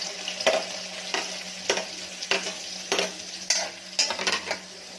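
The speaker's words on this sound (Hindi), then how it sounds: "शिमला मिर्च और प्याज को हम तब तक फ्राई करेंगे जब तक इसका कलर थोड़ा चेंज ना हो जाए" Capsicum and onion fry in hot oil on a tawa, giving a steady, close sizzle, while a spatula stirs and scrapes at a regular rhythm of about one stroke per second.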